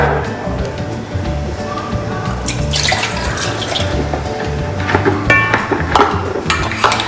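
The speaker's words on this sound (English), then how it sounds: "1 cup of water." Water is poured into a cup for a Pillsbury strawberry cake mix in a home kitchen, a close, continuous splashing pour with small clinks and drips.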